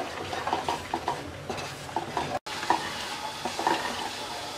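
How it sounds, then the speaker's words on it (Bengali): Half teaspoon each of whole cumin and radhuni lightly frying in a pan for an egg, gram and papaya dal: soft, steady sizzle with repeated spatula scrapes and a brief dropout midway. "এবার গোটা মশলাটা হালকা একটু ভেজে নেব।"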